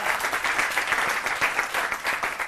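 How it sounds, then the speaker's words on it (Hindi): Applause from the audience at a New Year 2023 poets' gathering, welcoming a poet: dense, steady clapping from many hands that holds throughout, with no talk. "तालियां रुकनी नहीं चाहिए।"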